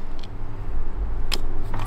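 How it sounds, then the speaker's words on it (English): Tesla Model 3 sedan locking with a key card as its side mirrors fold shut: a steady low car hum with a couple of short motor whirs and faint clicks near the end. "to lock it, you have a little key card, and it's unlocked. That's when the mirror's shut, and the mirror's open to unlock."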